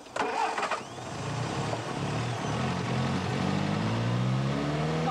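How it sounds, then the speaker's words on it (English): A car engine cranks and catches, then runs with a steady, gradually rising rev, held fairly gentle and close by, with no talk over it. "Switch the engine on and rev it gently."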